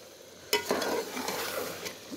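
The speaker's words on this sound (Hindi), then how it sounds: "आलू मटर मैंने डाल दिए हैं तो अभी जो है कि पकाऊंगी अच्छे तरीके से" Potatoes and peas fry in a pan with a close, crackling sizzle. A sudden rustling burst of stirring drops the vegetables into the hot oil.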